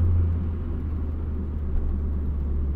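A Mitsubishi Eclipse engine running with a misfire, a steady close low rumble and hum with slight unevenness throughout.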